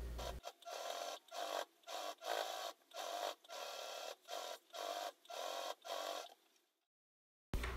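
Domestic sewing machine topstitching a backpack flap in repeated bursts of steady mechanical stitching separated by short pauses, close and clear, trailing off into silence before a brief final knock.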